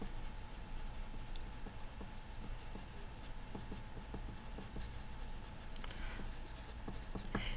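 Pen or chalk scratches out math formulas by hand in soft, continuous strokes with small taps between them, close but faint against a quiet room.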